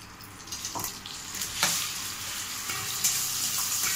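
Blended onion and tomato paste frying in a pan for a spicy soup, giving a steady broadband sizzle with a few brief louder bursts of spatter, close and continuous with no talking.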